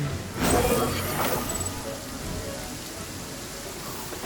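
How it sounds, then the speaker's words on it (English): Steady patter of rain falling in the video game Genshin Impact, a soft continuous hiss with a brief louder splashy burst near the start. "And it's got rain too?"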